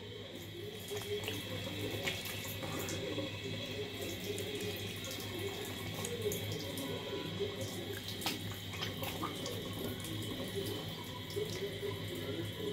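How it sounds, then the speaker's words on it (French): Tap water runs steadily into a sink while someone rinses their face, a continuous close splashing wash with irregular small splashes throughout. "Ensuite, je vais rincer mon visage."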